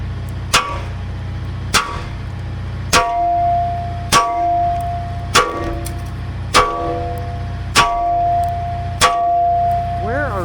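Hammer striking a welded metal joint about nine times at a steady pace, each blow a sharp ringing clang with a lingering metallic tone, loud and close.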